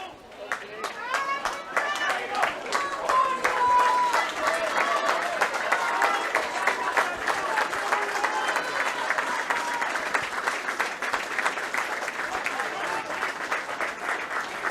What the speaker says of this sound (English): A generous round of applause from all of the supporters here for her.